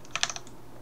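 Keys on a computer keyboard clatter in a quick burst of four or five close, crisp taps during a League of Legends game, then go quiet.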